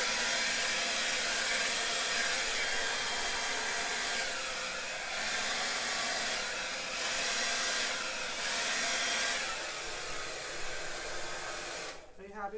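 A hair dryer blows steadily across wet acrylic pour paint, a loud close continuous roar that swells and dips slightly as it is moved, then switches off near the end.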